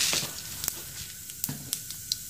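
Chana dal sizzles in hot oil after mustard seeds have spluttered, with a steady hiss and scattered sharp pops and crackles, close by.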